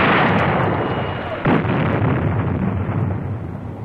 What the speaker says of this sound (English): In a matter of moments, the big guns have zeroed in.